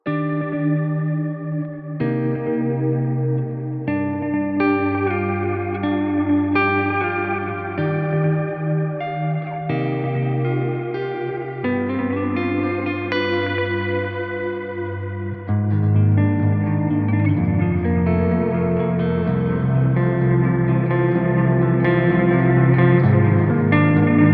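Clean electric guitar chords through an Axe-Fx III Ambient Bliss preset with Plex reverb, ringing out with lush, spacious reverb and shimmering echo tails, steady and fairly loud throughout, growing fuller near the end.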